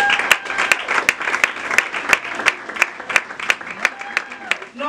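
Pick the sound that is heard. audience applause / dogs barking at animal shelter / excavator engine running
audience applause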